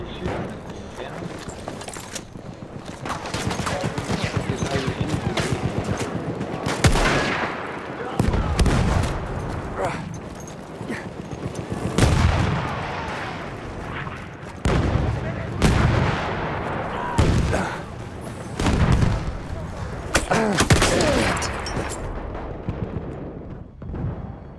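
Battlefield 1 open beta battle with dense gunfire and heavy artillery-like booms, loud bursts repeating throughout, while players talk over the action.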